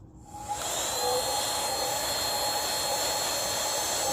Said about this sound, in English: So I'm going to use this little vacuum here.